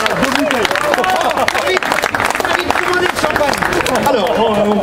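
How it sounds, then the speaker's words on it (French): Award ceremony audience breaking into loud, dense applause with cheers and murmured voices, steady and close for the whole stretch. "Des applaudissements."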